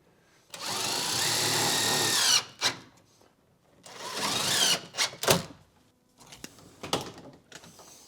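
A power drill driving screws to fasten a small bathroom vent fan to a board, in two long whirring bursts followed by shorter clicking and ratcheting sounds, close and loud.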